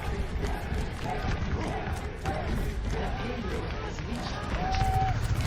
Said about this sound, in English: Crowd going absolutely wild for the play that Proper just made.